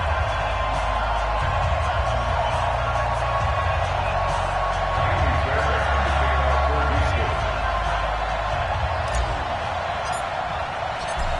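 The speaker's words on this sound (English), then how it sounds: "This crowd is ready as their guys get set to match up between the Houston Texans and the Detroit Lions." A stadium crowd murmurs and cheers before a Houston Texans versus Detroit Lions NFL matchup in an EA Sports football game on PS4, a continuous ambient roar beneath a commentator's voice.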